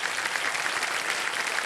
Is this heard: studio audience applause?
yes